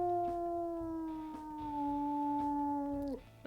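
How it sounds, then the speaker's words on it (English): A wolf in the video game WolfQuest gives one long, steady, clear howl that holds a level pitch, drifts slightly lower and cuts off near the end. "Let's listen to howls though."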